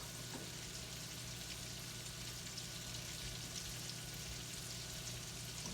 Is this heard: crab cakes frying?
yes